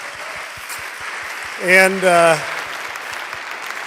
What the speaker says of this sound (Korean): maybe we could just express our appreciation through applause for the worship team